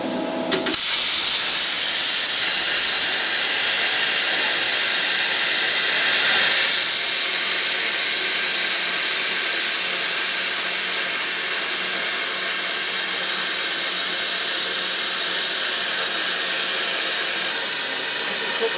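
Cutter slicing through 12mm steel plate at 45 amps: a loud, constant, broadband hiss starts abruptly and holds steady without a break, close up and alone with no talking.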